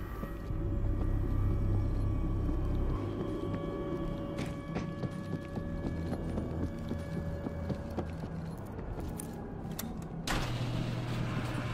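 Heavy gates open in a Left 4 Dead video game. A loud low mechanical rumble gives way to grinding, sliding metal movement with scattered clanks, and another burst of machinery starts near the end.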